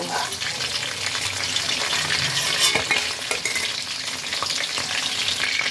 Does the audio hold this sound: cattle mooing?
no